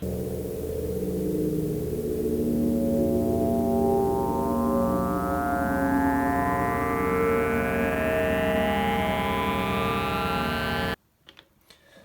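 A Nagra-recorded sample played through a Nymphes synthesizer: a sustained tone with a slowly rising sweep of bright harmonics over a dense low drone, loud and steady, cutting off abruptly near the end.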